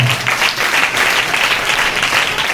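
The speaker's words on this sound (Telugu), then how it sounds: "చప్పట్లు కొడదాం ఒకసారి." Steady applause from a congregation during a Christmas sermon, a continuous wash of many hands clapping at moderate loudness from start to finish.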